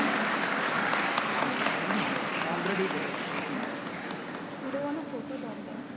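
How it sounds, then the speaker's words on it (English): Applause from an audience at a university convocation ceremony, a steady, moderately loud wash of clapping that gradually eases. "Let us give her a huge round of applause."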